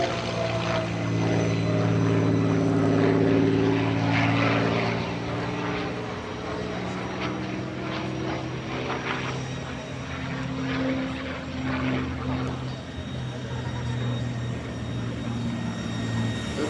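World War II propeller warbird flying past at the EAA AirVenture 2025 airshow, a loud sustained droning engine roar that swells and slowly fades, steady throughout.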